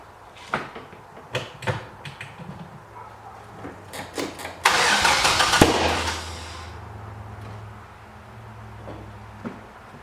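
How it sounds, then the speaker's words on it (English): Chevy engine swapped into a Subaru being cranked for the first time, heard as clicks and knocks, then a harsh burst of cranking noise with a sharp bang, followed by a low rough rumble, close by with no talking. "We're going to crank this thing for the first time with hopefully proper ignition timing"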